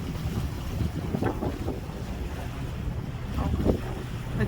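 A boat moving across Lake Zurich, with steady rushing water, lapping waves and gusty wind buffeting the microphone, plus low engine rumble, continuous and fairly loud with no talk.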